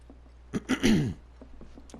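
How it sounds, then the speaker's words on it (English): A person with a cold gives a couple of short coughs followed by a throat-clearing rasp, close and brief, over quiet background. "I apologize for any coughs or sniffles as we go."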